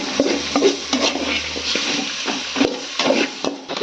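Chicken pieces frying in a pan for a home chicken fry, with steady sizzling and repeated stirring scrapes and knocks of a utensil against the pan throughout.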